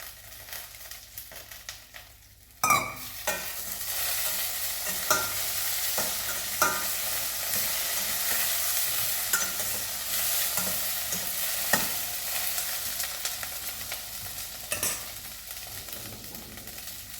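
Pieces of raw mango drop into a pan and fry, a sudden burst of sizzling that settles into a steady crackle, marked by occasional clacks of a spoon stirring the pieces.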